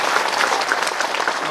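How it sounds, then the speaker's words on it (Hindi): An audience at a Bhagavat Katha religious discourse claps loudly in a steady, dense burst of applause, with voices faintly mixed in. "तो जोरदार ताली से"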